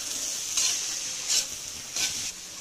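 Cabbage frying on a stove gives a steady sizzle, with three louder bursts of stirring as the pan is worked. There is no talk.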